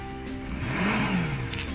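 A boat outboard engine on a Savage Commander boat revs up, its pitch climbing, then eases back down in a smooth rise and fall over a steady motor drone.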